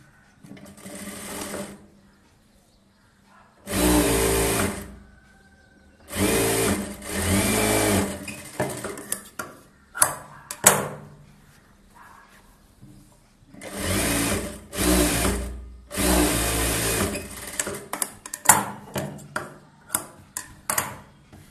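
Sewing machine stitching the hook strip onto a blouse: several loud bursts of stitching, each lasting a second or two, separated by quiet pauses and small clicks of handling.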